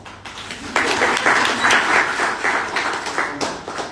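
Applause from an audience at a sustainability forum panel in Ahmedabad, a dense, sustained burst of many hands clapping that swells and then slowly thins out over several seconds.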